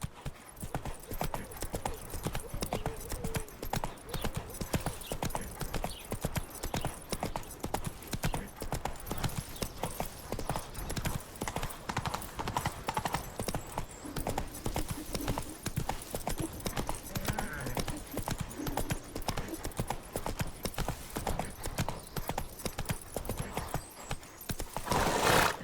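Roach, a horse in The Witcher 3 video game, gallops with rapid, steady hoofbeats throughout, a brief whinny rising over the constant drumming of hooves.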